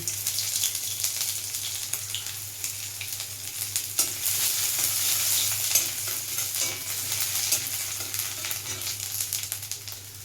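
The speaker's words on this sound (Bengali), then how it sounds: "রসুনটা ভাজা ভাজা হয়ে এসছে" Garlic paste fries in hot oil over nigella seeds in a pan, a continuous close sizzle with scraping stirs and crackling bursts for about ten seconds, no voices.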